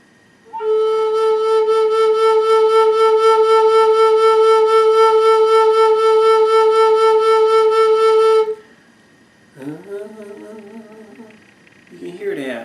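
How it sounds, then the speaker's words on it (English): A close, loud flute note sustained with vibrato for roughly eight seconds, rich in overtones, followed by a few seconds of someone talking. "it's like you'll be singing through your flute."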